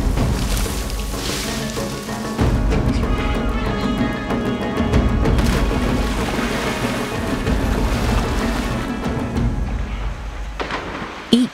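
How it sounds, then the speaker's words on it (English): Monkeys plunging into a river, a dense, continuous wash of splashing and churning water with heavy low rumble, briefly easing near the end before a final splash. "Each impact carries sound waves up and down the river."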